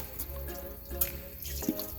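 Lukewarm tap water from a faucet filling a tub: a steady watery gurgle and splash with a few louder drips and plops, close and fairly quiet, with no voices.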